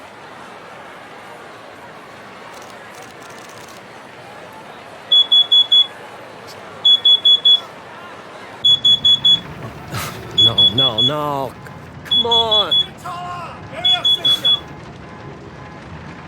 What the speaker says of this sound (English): It was a smoke detector.